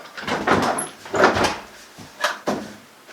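A door is being removed from its frame, giving several separate knocks, scrapes and thumps of wood and hardware, fairly close and irregularly spaced, with no talk.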